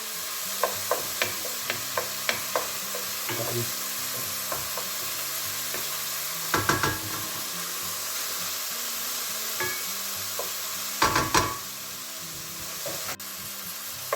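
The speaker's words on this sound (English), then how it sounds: "Then we'll go in with our garlic, so 3 cloves of garlic, and our shallots. And I'm going to go in with some butter." Garlic cloves, shallots and butter sizzle steadily in a frying pan, a constant hiss broken by several sharp clicks and clatters of a utensil stirring and tapping the pan.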